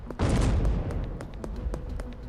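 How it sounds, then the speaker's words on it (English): A giant explosion goes off in the backwoods in the video game Schedule 1: a sudden broadband boom that rolls into a long rumbling decay, with faint scattered crackling pops trailing after. "A giant explosion goes off in the backwoods"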